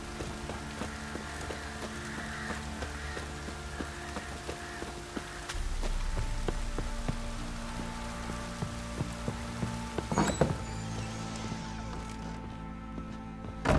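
Steady rain in The Witcher 3 video game patters on surfaces with a low hum beneath, broken by a couple of louder thumps near the end.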